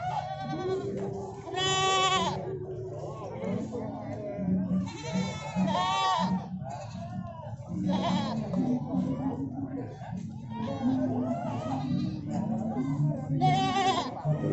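Goats at a goat seller's farm bleat loudly and repeatedly in close, wavering calls, several animals overlapping while someone talks between and over them.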